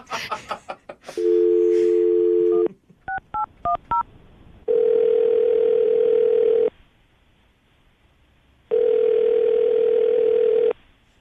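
A telephone dial tone plays between rapid DTMF keypad beeps as a call is dialed for a morning radio show, with two long steady ringback-style tones following; brief talk opens the clip.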